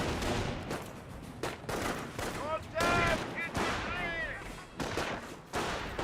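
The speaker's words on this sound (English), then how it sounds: "Panzer Grenadier is firing away" Rifle and machine-gun fire from a Company of Heroes battle, with Panzer Grenadiers firing: dense, overlapping bursts and cracks that continue throughout at close range.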